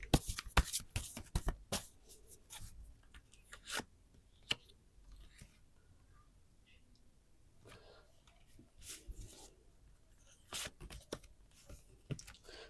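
Tarot deck shuffled by hand during a reading, with bursts of crisp riffling and card flicks at the start and end, a quieter stretch of soft handling in between, and a single card drawn.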